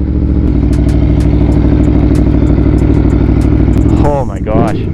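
An Aprilia Tuono V4 motorcycle engine rumbles loudly and steadily on a test ride, a deep, throbbing drone close to the rider, with a voice speaking over it near the end.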